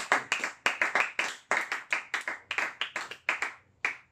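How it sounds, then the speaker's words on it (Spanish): A church congregation claps together in a steady burst of applause, sharp hand claps close and distinct in an uneven rhythm, fading and stopping near the end. "Démosle un aplauso a mi Señor Jesucristo."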